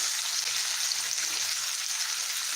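Breakfast food frying in a pan, a dense, steady sizzle and crackle holding an even level throughout with no talk over it.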